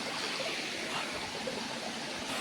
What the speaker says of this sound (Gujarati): અને આ છે આપણે બનાસકાંઠાની અંદર આવેલો ધરેડાનો ધોધ.